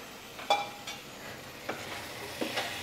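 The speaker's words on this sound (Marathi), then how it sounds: "आता परत एकदा व्यवस्थित हलवून घेऊया आणि लगेच आपल्याला या ज्या शेंगा उकडून ठेवल्या आहेत त्या घालायच्या आहेत" Masala being stirred in a pan as boiled beans are added, giving a soft continuous sizzle broken by a few scraping stir strokes, close and fairly quiet.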